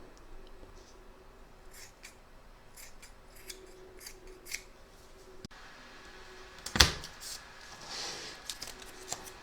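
Scissors trim excess hat fabric for a Santa appliqué, a few quiet snips and soft cutting strokes close by, with one sharper clack of the blades in a calm room.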